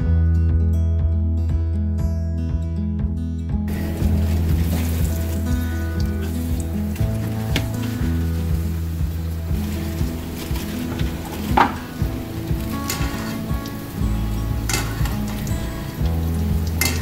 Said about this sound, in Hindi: देखिए ऑयल मैंने प्रीहीट होने के रख दिया था पहले से ही। अब मैं एक एक करके इसमें बॉल डालूंगी।